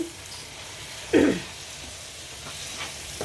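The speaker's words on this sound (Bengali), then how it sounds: "গুড় দিলাম, গুড়টি একটু ভালোভাবে নেড়ে নিচ্ছি।" A spoon stirs jaggery into jujube (boroi) pickle in a pan, giving a single brief scrape-and-sizzle burst against soft background noise, followed by faint clinks.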